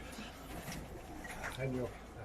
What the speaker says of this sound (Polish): Sylwek, Sylwek resztę gołębi właśnie wygania taką krawką.